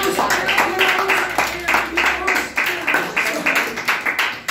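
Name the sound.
audience clapping for a storyteller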